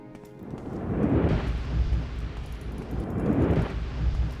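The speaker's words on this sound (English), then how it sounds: "a few fireworks" Fireworks go off in the video game Morrowind as two broad, rumbling bursts a couple of seconds apart, each swelling and fading.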